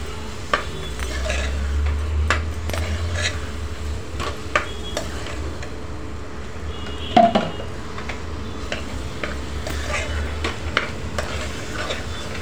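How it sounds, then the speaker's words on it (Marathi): Chicken pieces sautéed in spicy masala in a pan, a continuous close sizzle with repeated scraping stirs and occasional metallic taps from the spatula, one sharper clatter midway, and no speech. "चिकन छान परतून घ्यायचं मसाल्यामध्ये."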